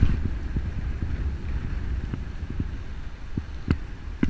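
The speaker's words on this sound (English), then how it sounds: "weather's nice, wind's a bit high" Strong wind buffets the microphone while cycling in the south of France, a continuous low, gusty rumble with irregular thumps throughout, with no voices.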